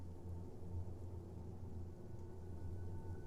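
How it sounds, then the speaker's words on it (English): Steady rain with a low thunder rumble forms a faint, continuous storm ambience with no voices over it. "Even in this rain."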